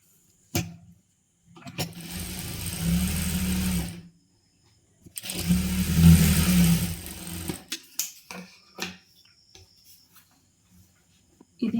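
Two steady bursts from a tailoring sewing machine stitching chudidar pieces together, separated by a pause, followed by scattered clicks and fabric handling.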